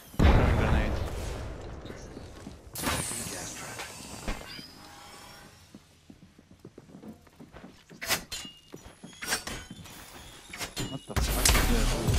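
Grenade blasts in a first-person shooter video game: several loud, broadband explosions burst at intervals amid scattered gunfire and crackle, with voices in the background.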